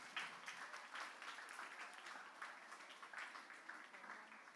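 An audience applauds children at a school English Day event, steady dense clapping from a crowd at moderate distance, continuous for the whole stretch.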